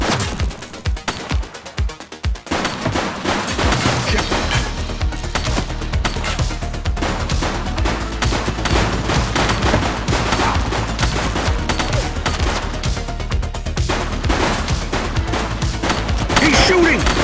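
Sustained bursts of gunfire in the police video game The Precinct, steady and loud throughout, with rapid volleys layered over game music and a low droning bed.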